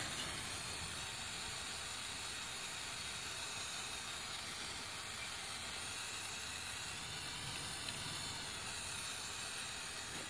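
A heat gun melting heat shrink tubing over sensor wiring on a Ford 6.0L diesel, a loud, steady, continuous blowing hiss that holds unchanged throughout.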